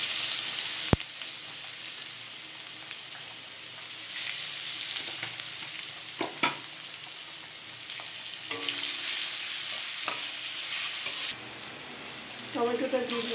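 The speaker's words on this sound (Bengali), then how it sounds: "পেঁয়াজটা ভাজা ভাজা হয়ে গেছে" Chopped onions fry with whole garam masala spices and cumin in a pan, a steady close sizzle running throughout, punctuated by occasional scraping stirs and clinks of the utensil.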